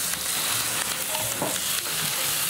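Vegetables for shakshuka fry in a pan with a steady, close sizzle and crackle, the hiss spreading across the whole clip with occasional stirring scrapes and no voices.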